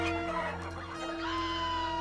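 Cartoon chickens cluck briefly and fairly quietly over a steady tonal hum in the background, from the animated show Family Guy.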